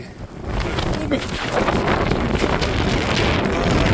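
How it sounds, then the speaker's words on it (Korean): Strong wind sweeps across a snowy mountain near a cave, a loud continuous roar buffeting the microphone, with a brief voice near the start. "바람."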